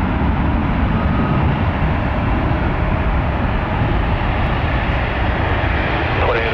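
A Virgin Atlantic Airbus A350-1000 jet takes off at Minneapolis–Saint Paul airport, its engines producing a loud, continuous broadband roar that holds steady throughout.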